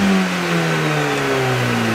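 A supercharged Mini R53, a standard car prepared for a track day, revs close up with a throaty, steady engine note that sweeps smoothly, loud and alone without any talk.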